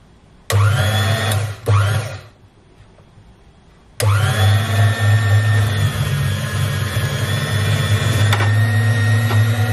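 An electric bread slicer cuts a loaf of toast bread into ten slices, its motor whirring loudly in short bursts at first, pausing briefly, then running steadily and close by.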